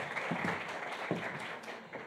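A crowd at a women's business pitching event in Cape Town applauds in a soft, continuous wash of clapping, fairly distant, with a few faint voices under it.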